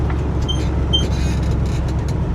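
An old, previously abandoned International truck drives along at about 25 mph with a steady, loud engine and road rumble throughout and no voices.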